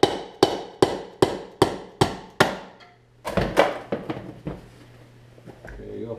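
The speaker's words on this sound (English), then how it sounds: "you notice I'm using a rubber mallet" Rubber mallet hammering a socket to punch out a Honda CRF 150 front wheel bearing: seven evenly spaced sharp thuds, a brief pause, then a faster cluster of blows that tails off, close and loud, with a low hum underneath.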